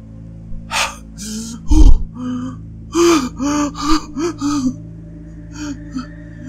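A woman gasps sharply on waking, then pants in a run of short, ragged breaths close to the ear, with a low hum underneath.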